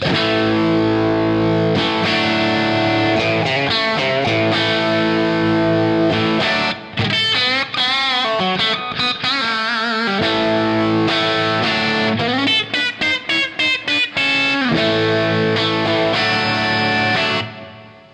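A guitar compressor pedal with its two main knobs maxed out: heavily compressed, distorted electric guitar plays chords and riffs for a long stretch, loud and sustained, with audible hiss and brief gaps between phrases.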